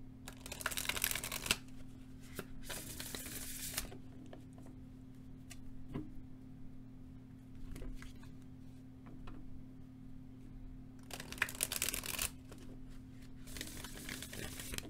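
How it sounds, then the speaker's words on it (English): Oracle cards are shuffled in two quick riffling bursts, a quiet pause between them, then two more bursts near the end. "let's shuffle these oracle cards"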